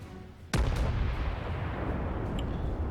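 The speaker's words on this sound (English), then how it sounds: "This Kuma, with its small guns, are firing armor-piercing shells at the New York." A Kuma cruiser fires its small guns in the naval game World of Warships, one sharp, loud boom followed by a rumbling roll of echo and distant battle noise.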